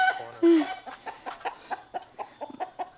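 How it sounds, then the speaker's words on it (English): A chicken clucks in quick, irregular bursts while being chased with a net near a new coop site on a farm, close and fairly loud, with a faint voice in the background. "We've been trying to catch this chicken since last night."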